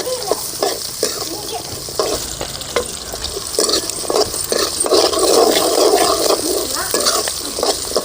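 Two cups of peeled small onions fry in a pan for a spicy chutney, a continuous crackling sizzle broken by frequent scraping stirs that grow busier and louder midway.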